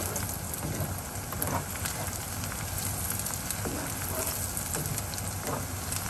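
Onions fry in a pan for ghugni with a steady, close crackling sizzle that carries on evenly from start to end, with no talk over it.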